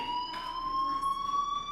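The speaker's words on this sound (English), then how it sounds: "Hey, do you hear that fire alarm?" Steady electronic fire alarm in the Life is Strange video game, a sustained high tone with harmonics ringing continuously and loudly throughout, with no talk over it.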